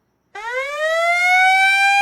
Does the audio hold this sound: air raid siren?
yes